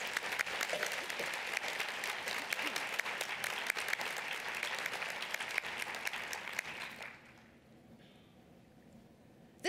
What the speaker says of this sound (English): Let's give the previous board a round of applause for the work that they've done.